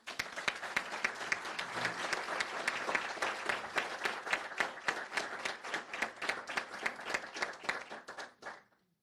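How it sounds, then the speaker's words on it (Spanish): An audience in a hall applauding to welcome a speaker, dense sustained clapping from many hands that holds steady for several seconds and then fades away. "solicitamos un aplauso"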